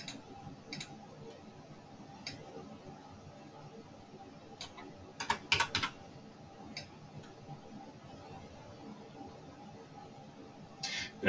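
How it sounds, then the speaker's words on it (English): Faint, sparse keystrokes on a computer keyboard tap irregularly in a quiet room, with a brief cluster of quicker clicks partway through. "I'm just typing in here while I'm looking for these fields to highlight them."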